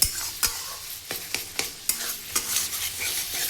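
Taro greens with lentil dumplings are stir-fried in oil, a spatula scraping the pan in quick, irregular strokes over a soft, steady sizzle, close and alone.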